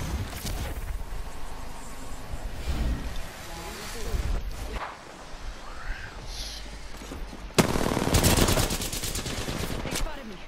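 Shooter video game gunfire arrives in bursts of rapid shots over a busy, dense mix of game sounds, getting louder and heavier toward the end, with a player talking at times.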